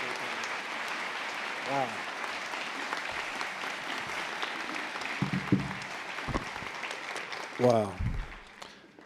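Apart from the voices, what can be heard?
audience applause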